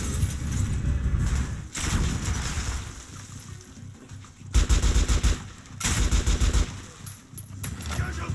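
The player's gun in Metro Last Light fires in repeated loud bursts, including a rapid machine-gun-like stretch near the middle, with rumbling ambience between volleys.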